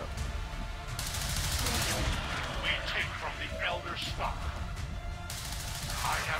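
Gunfire from the strategy video game XCOM 2: War of the Chosen, a continuous dense rattle of shots under a steady backdrop of in-game sound effects, with a voice speaking over it.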